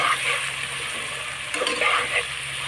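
Spiced potatoes sautéing for a banana flower curry give a constant close sizzle, with a few brief soft stirring sounds, a faint low hum beneath and no talking.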